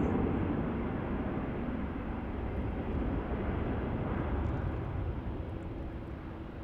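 Airliner slowing after landing on runway 16 at Melbourne, a broad continuous engine and reverse-thrust roar at moderate distance, gradually easing with a faint tonal hum appearing late.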